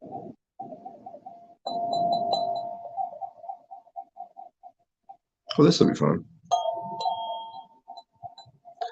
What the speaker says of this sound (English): It's like a tubular bell or something.